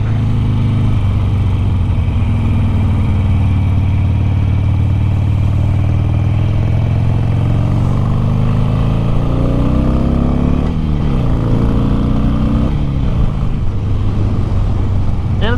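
A Harley-Davidson Sportster motorcycle engine drones steadily while riding, a loud continuous low rumble with slight pitch rises as it accelerates, wind noise throughout.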